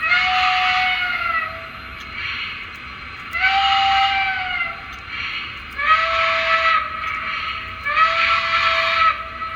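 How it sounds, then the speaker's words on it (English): A Lionel LC+2.0 PRR 0-6-0T model steam locomotive's whistle sounds in four long blasts separated by short gaps, each with a hissing, breathy tone, loud and steady. "So if I hit the whistle, that's what we hear."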